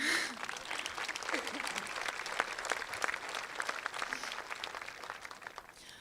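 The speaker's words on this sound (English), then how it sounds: "clapping." A graduation ceremony crowd claps steadily and fairly loudly for several seconds, a dense wash of applause with no break.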